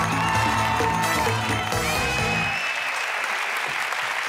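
Studio audience applause on a Turkish television game show, a dense steady clapping that fills the clip and then thins out toward the end, with no talking.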